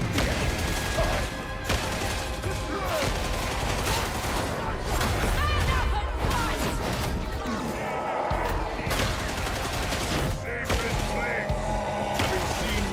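Sustained, dense gunfire from the Darktide video game: rapid overlapping shots and bursts at close range, loud and continuous throughout, with crashing impacts mixed in.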